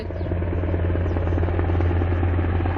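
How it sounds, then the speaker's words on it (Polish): A helicopter flies over a hotel in Jordan, heard as a loud, steady low drone and hum that holds without a break, with no voices over it. "I helikopter lata nad naszym hotelem."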